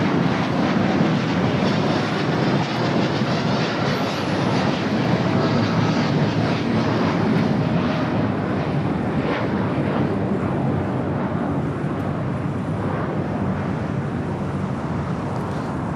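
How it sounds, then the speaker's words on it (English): A United jet airliner, flight 923 bound for London Heathrow, rolls down the south runway on takeoff with a continuous, broad engine roar that stays strong and even throughout. "we do have a United flight rolling down, heading to London Heathrow"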